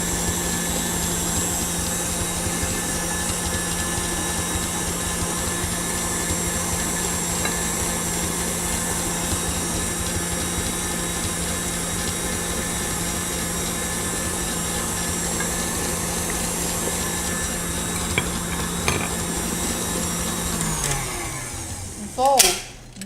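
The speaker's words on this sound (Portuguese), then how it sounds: "Adiciono um ovo, deixo bater um pouco." Stand mixer beating cake batter as eggs are added, a steady loud motor whir with a strong hum running continuously, then winding down as it is switched off near the end.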